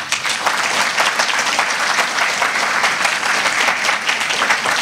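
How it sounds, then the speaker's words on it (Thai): Audience at a Thai art talk claps to welcome a lecturer to the stage, a dense and steady round of applause lasting several seconds with no talking over it. "ขอเสียงปรบมือต้อนรับอาจารย์พิษณุสุภนิมิตครับ"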